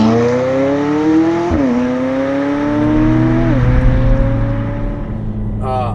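McLaren 570 GT sports car climbing a dirty, wet Malibu road after heavy rain, engine droning loud and steady with two audible gear shifts as pitch drops and rises again, tire hiss underneath.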